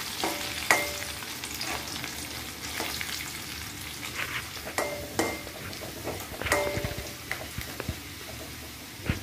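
Garlic frying in oil for a bitter gourd pickle, stirred in a pan: a soft sizzle under repeated scraping and clinking of a spoon against the pan, close and moderately loud, with no voices.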